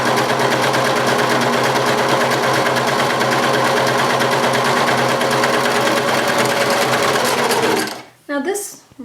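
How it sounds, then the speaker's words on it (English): A serger sewing machine runs continuously at high speed stitching folded fabric with a long stitch length, a loud close buzzing whir lasting about eight seconds before stopping, followed by brief talking. "I'm going to sew it, folded, to see how the integrity of the stitch."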